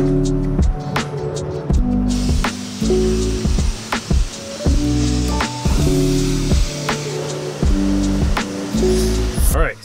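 A coin-operated pressure washer at a Texas car wash sprays a van in a loud, hissing, close stream with rhythmic pulsing and splashing across the body panels.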